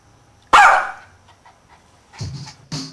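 A dog gives one loud, close bark followed by a couple of shorter yips a second or so later, with near silence in between.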